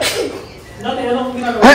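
A sneeze bursts out sharply at the end, just after a short stretch of speech.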